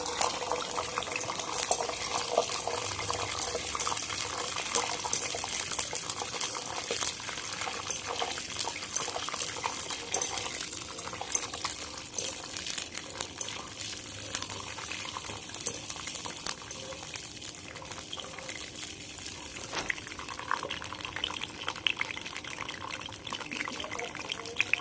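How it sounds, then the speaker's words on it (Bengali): Peanuts sizzling in hot oil for jhuri bhaja, a steady dense bubbling hiss that runs unbroken and fairly loud throughout, with no talk over it. "বাদামটা আমি ভিজে নেবো এই তেলে।"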